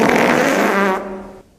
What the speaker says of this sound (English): unladylike fart